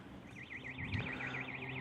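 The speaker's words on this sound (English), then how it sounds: "that alarm over there has been going off for about 2 hours" An alarm wails in the distance near an allotment plot, its warbling tone rising and falling steadily and faintly over low outdoor background noise.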